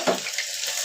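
Chopped onions hit hot oil already seasoned with coriander and cumin, giving a short, close, bright sizzle that flares at the start and settles into a steady fry.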